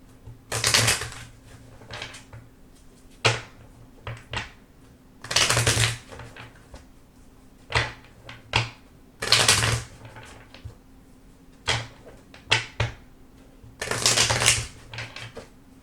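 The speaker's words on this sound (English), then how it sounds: "Six cards, 4 shuffles." Tarot cards shuffled by hand in repeated bursts of crisp riffling and flapping, each a second or so long, separated by short pauses, close and fairly loud with no talking.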